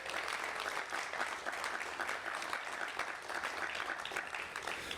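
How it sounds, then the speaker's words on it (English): Audience applause at an outdoor ribbon cutting ceremony for a public safety aviation unit in Peoria, a steady, even wash of clapping that holds for several seconds at moderate distance with no talk over it. "I think that deserves some applause"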